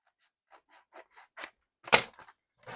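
Scissors cut through paper while making envelopes, with a row of short, crisp snips followed by a louder slicing cut and a final scrape, close and clear against silence.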